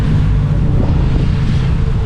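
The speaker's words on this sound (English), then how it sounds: "this wind is insane" Strong wind roars and buffets a microphone outdoors on a motorcycle camping trip, a loud, steady low rumble with no pauses throughout.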